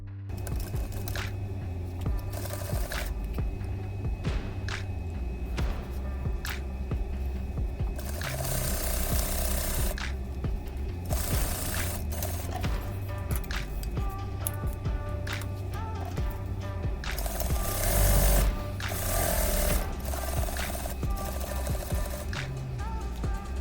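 A sewing machine runs in steady bursts while back-stitching the corners of a fabric bowtie, its busy mechanical whir continuous and fairly close, with occasional pauses and shifts in speed.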